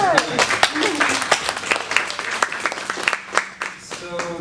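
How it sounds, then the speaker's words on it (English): An audience at a design panel event breaks into applause, a dense clatter of many hands clapping for several seconds, moderately loud, with some voices talking underneath. "let's give them a round of applause."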